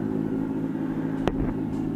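The artificial engine sound of a Revolt RV 400 electric motorcycle hums steadily with a low droning tone, broken by a short sharp click partway through.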